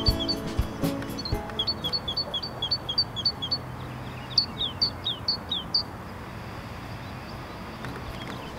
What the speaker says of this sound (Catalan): ara acabo de sentir unes mallarengues